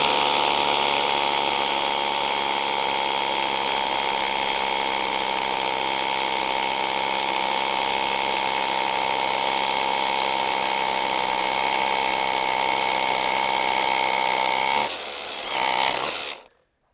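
A Bosch Bulldog cordless SDS Plus 1-inch rotary hammer drills into very old, hard concrete, a loud continuous hammering whine held steady for about fifteen seconds before a brief dip, a short final burst and a stop.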